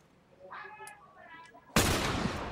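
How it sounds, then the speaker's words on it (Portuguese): A single loud gunshot burst rings out in The Last of Us on PS4 after a quieter stretch of game sound, with a broad noisy decay trailing to the end. "Dei dois tiros no cara, um na cabeça."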